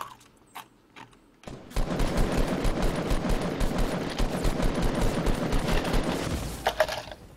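Rapid, sustained gunfire in Fortnite Battle Royale rattles on for several seconds after a few sparse clicks and taps, dense and loud, with bursts of shots crowding together before tapering off.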